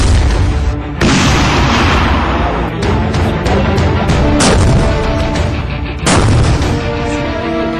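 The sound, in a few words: missile fired from a T-90 Bhishma tank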